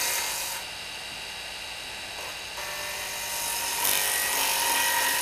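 A turning tool cutting wood on a lathe, a continuous loud rasping, hissing cut that shifts in intensity as the tool moves along the workpiece, no talk.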